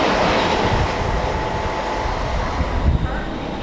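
At a railway station on a rainy day, a train rolls close by with a continuous rumble and clatter of wheels on the rails, the sound swelling slightly near the end.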